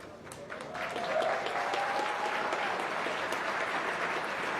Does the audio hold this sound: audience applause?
yes